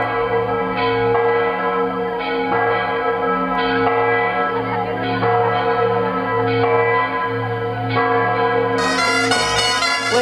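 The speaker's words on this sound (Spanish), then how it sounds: "eran las campanas de la Catedral de Sigüenza" Church bells of Sigüenza Cathedral ring loud and sustained, with repeated bright strikes over a dense humming tone and no speech.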